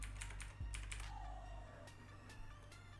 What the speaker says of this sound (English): Or you can use your keyboard if you didn't change anything on your keyboard shortcuts. You can press page up to go back, or page down to go forward.